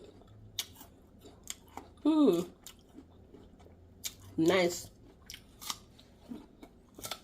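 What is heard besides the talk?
chewing crunchy fruit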